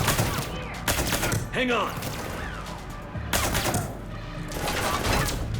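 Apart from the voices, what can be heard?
gunfire in the video game Mass Effect 3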